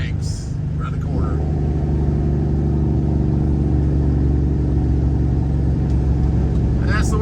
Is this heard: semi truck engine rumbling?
yes